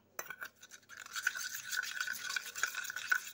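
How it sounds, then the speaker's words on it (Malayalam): A spoon briskly stirs sugar and salt into passion fruit juice, making a rapid, rhythmic clinking against the glass with a faint swishing of liquid, quiet and close. "പഞ്ചസാരയും കൂടി ഇട്ട് കൊടുത്തിട്ട് ഇളക്കണം"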